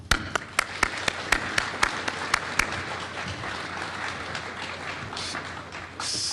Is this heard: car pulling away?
no